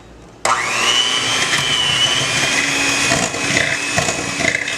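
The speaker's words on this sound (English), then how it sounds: "I'm gonna blend my butter and sugar. Over here, over here I have my mixer." An electric mixer beating butter and sugar in a bowl for Barbados lunch cakes. It switches on abruptly and keeps up a loud, steady whir with slight shifts in pitch as the beaters work through the mixture.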